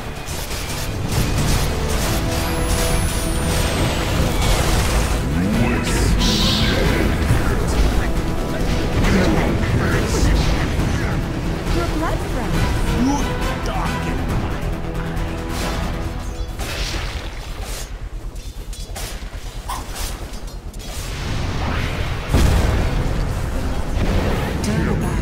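Dota 2 match audio with a tower under attack: dense, continuous layered battle effects with repeated booming explosion-like hits and crashes, loud throughout, with game voice announcements over the clash.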